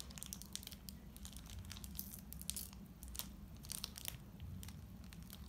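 Foil trading card pack being torn and crinkled open by hand, a continuous close rustle with bursts of ripping and crackling, no talking.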